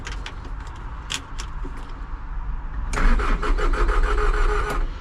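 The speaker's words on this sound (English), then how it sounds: "Even though we've started the motor, I think we'll go like half throttle or something." A rebuilt Takeuchi TL150 engine starts and then runs, a low mechanical rumble that swells to a louder, rougher drone partway through, with traffic noise in the background.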